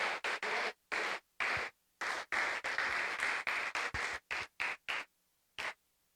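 A church congregation claps in praise, loud bursts of applause broken by short silent gaps.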